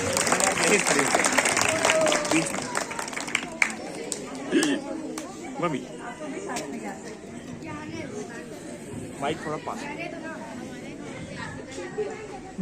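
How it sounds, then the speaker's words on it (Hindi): Audience applause at a school Republic Day celebration, a dense burst of clapping that runs steadily for about twelve seconds and gradually thins, with crowd chatter mixed in underneath. "जोरदार तालियां बजाइए"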